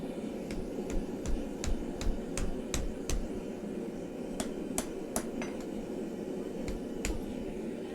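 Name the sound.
hammering metal on an anvil while forging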